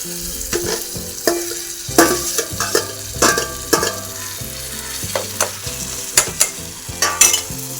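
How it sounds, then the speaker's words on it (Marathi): Crushed eggplant stirred into chutney frying in a pan, a steady sizzle broken by repeated scraping strokes of the spoon, close and loud with no voices. "आता आपण याच्यामध्ये क्रश केलेलं वांग टाकू."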